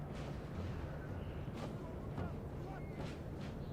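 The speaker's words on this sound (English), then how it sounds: "The two Obligene units is coming under heavy fire from my battery over here." A Napoleon Total War artillery battery fires in a steady roar of battle, with deep booms and rumble under a voice talking throughout.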